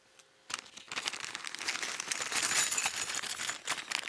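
Crisp crinkling and rustling of clear plastic poly bags being unpacked from a dust collector filter kit, starting after a brief quiet moment and continuing as irregular close-up crackles.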